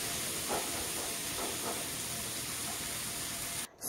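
Onion, tomato and ginger garlic paste sizzling steadily in a pan, a loud continuous hiss filling the whole stretch with little variation before cutting off abruptly at the end.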